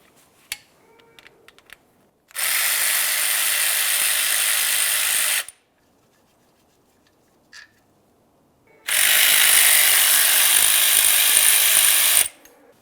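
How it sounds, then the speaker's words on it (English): A hand ratchet works a 10mm bolt loose from the exhaust heat shield of a 2011-2019 Ford Explorer in two loud, rapid clicking bursts of about three seconds each, separated by quiet pauses with faint handling noises. "we're going to continue on to removing a 10mm headed bolt down along the bottom of this shield"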